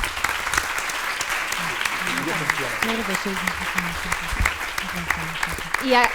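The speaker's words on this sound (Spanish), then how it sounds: "Pues un aplauso, por favor." Sustained audience applause fills the room at the opening of an intergenerational feminist gathering, steady and dense throughout, with a voice speaking over the clapping.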